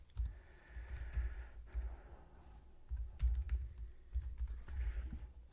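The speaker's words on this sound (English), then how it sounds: "So I'm just going to type out where." Quiet typing on a computer keyboard, a soft, irregular run of key clicks and taps with a low background hum and no talking.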